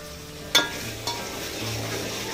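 Mutton and bhaji frying in green masala, a soft constant sizzle with two sharp utensil clinks against the pan early on, then steady low crackling.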